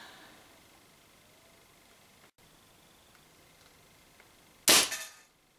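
A Spyder MR6 paintball marker powered by CO2 fires a Z-RAM slug, a single sharp pop near the end that decays quickly after a long quiet stretch.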